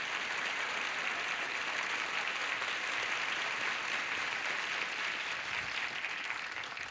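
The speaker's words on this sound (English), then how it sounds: "Nice round of applause for both of them" A studio audience on a 1980 Tic Tac Dough game show claps in a sustained, even wash of applause lasting several seconds, without talk over it.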